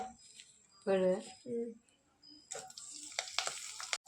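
Dried red chillies and curry leaves hit hot coconut oil in a pan for a Kerala crab roast, and a loud crackling sizzle bursts in partway through after a short stretch of a voice talking.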